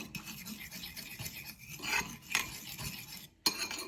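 A spoon works salted butter and a salt mixture around a bowl, giving a soft, steady rasping scrape with a few sharper clinks near the end. It is quiet and close, with no talk.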